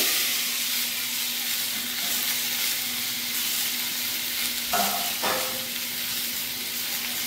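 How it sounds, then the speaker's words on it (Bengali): Whole spices for a mango chutney tempering sizzle steadily in hot oil in a pan, a loud continuous frying hiss with a couple of brief clinks of a utensil near the end, no voices. "চাটনিটা বসাবো, ফোড়নটা একটু ভেজে নেবো"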